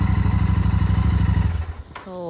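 A Royal Enfield Super Meteor 650 motorcycle engine idles with a steady, lumpy putter, then briefly dips and shifts pitch near the end.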